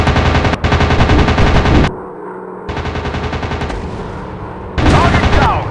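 Rapid machine gun bursts from WW2 fighter planes in the Warplanes dogfight video game, loud and sustained, cut by a short quieter gap of engine drone before the firing resumes in long rattling volleys.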